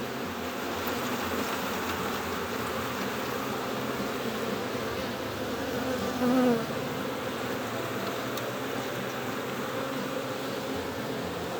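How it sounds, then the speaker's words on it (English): A steady, dense buzz of many honeybees at a hive hums continuously around the listener, close and even throughout, with no voices. "Shake the bees off of whatever frame I'm swapping."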